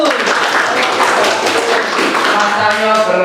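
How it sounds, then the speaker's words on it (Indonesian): Group applause in a classroom, a dense steady clatter of many hands clapping together for a few seconds, close and loud, with voices mixed in. "Tepuk tangan kelompok 1."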